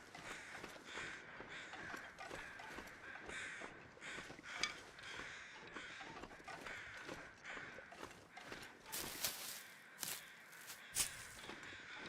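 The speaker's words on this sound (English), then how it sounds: "Lots of crows. And lots of crow sounds." Crows caw repeatedly in the snowy wilderness of the survival game The Long Dark, a scattered, faint flock calling over crunching footsteps and quiet ambience.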